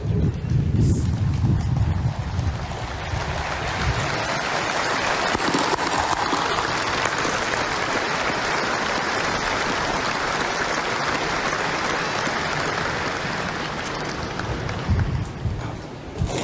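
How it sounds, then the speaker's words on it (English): Audience applause for Avona School as the group returns to its seats at a memorial gathering. Broad, sustained clapping from a large crowd rolls on like rain, with deeper rumbling at the start and end. "was a beautiful round of applause for Avona School as they returned to their seats"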